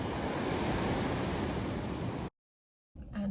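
Ocean surf washing continuously at night, a steady broad roar of waves for about two seconds, then a brief drop to silence before the surf resumes.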